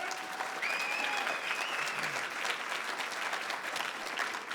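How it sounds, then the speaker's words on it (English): A room full of guests at a Fort Worth Club speaking event gives a big hand to a radio host: steady, dense clapping at a constant level throughout, with a couple of faint whistle-like tones sounding briefly over it. "So big hand of applause for Brian Estridge."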